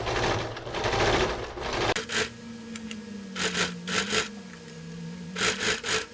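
A sewing machine stitching plastic-coated fabric over paper with a wide stitch runs in several short bursts of close, rapid mechanical whirring, separated by brief pauses.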